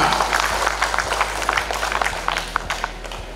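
Audience applause for the BPK head at a village fund management briefing, a steady patter of moderate clapping from a seated crowd under a constant low hum.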